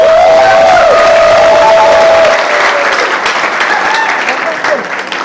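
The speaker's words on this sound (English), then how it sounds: "A round of applause to all the Kuki students" A student crowd at a freshers' meet in Shillong applauds and cheers loudly, with a thin whistling tone riding over the start before the clapping thins slightly toward the end.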